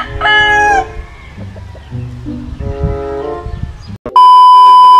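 A bullstag rooster with a straight comb and yellow legs crows loudly at a game farm; the harmonic crow comes first, then other birds cluck and call near and far, and a bright steady tone rings at the end.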